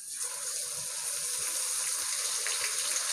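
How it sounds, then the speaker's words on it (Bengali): Ginger-garlic paste hits onions already fried reddish-brown for a mutton keema with potatoes and peas, setting off a steady, dense sizzle that runs evenly throughout with no voices. "এখন বন্ধুরা পেঁয়াজটা লাল লাল করে ভেজে নিয়েছি, এর মধ্যে আদা রসুন বাটাটা আমি দিয়ে দেবো।"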